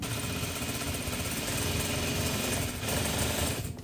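A sewing machine runs continuously while stitching a narrow baby hem on a thrifted garment, a steady close mechanical whirr with a slight shift in pitch near the end.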